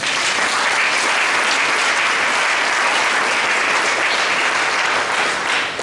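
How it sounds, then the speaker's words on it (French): A church congregation applauding during a worship service, a loud, dense, steady roar of clapping from many hands that carries on unbroken. "Si tu es d'accord avec moi, acclame Jésus."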